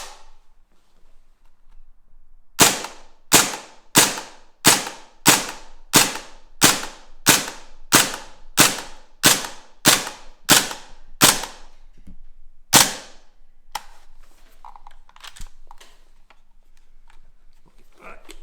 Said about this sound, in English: That did 15 shots quite nicely.